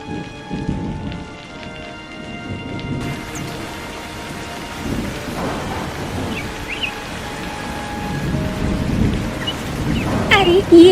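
Heavy cartoon rain pours steadily with rolling thunder rumbling beneath, growing louder toward the end, with a brief crack near the close.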